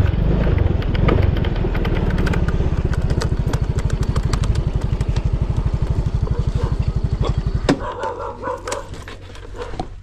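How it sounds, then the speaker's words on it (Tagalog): A motorcycle rides around a plot of land with a loud, close, rapidly pulsing engine that sputters and fades near the end, while a dog barks intermittently in the background. "Ikutan ko lang po ng motor para po inyong makita."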